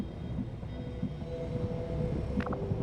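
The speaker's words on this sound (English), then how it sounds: "You just hear this really creepy train station sound." A low, rumbling ambience of a deserted train station in XCOM 2, steady and droning with a brief chime-like tone near the end.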